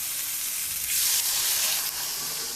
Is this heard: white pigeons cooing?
no